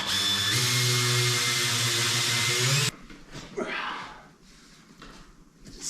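A power tool drives a lag bolt into a wall, giving a loud sustained whir that cuts off sharply and leaves faint handling clatter and knocks.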